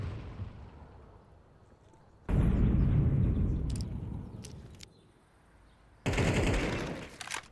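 A grenade detonates in Counter-Strike on the Inferno map during a competitive BLAST Open match, a loud broadband burst that cuts in sharply and rumbles on, with a second blast-like burst near the end.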